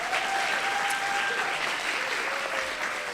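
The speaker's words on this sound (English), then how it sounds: "Let's give them applause." An audience at a lecture applauds the Breonna Taylor Legacy Fellows with sustained, even clapping, a steady crowd of hands heard at moderate distance.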